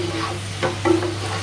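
Chicken pieces partly fried in oil in a pan, a close, steady low sizzle with a couple of short scraping stirs, no voices over it.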